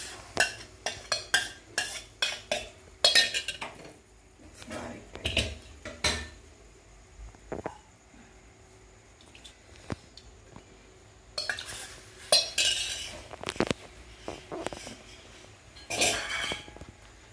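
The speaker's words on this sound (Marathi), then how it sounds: "हे आता सतत हलवत राहायचं, हे गुठळ्या होऊ द्यायच्या नाहीत।" A spoon stirs and scrapes surali vadi batter around a kadhai in repeated uneven strokes, close and fairly loud, with quieter pauses between bursts and no talking.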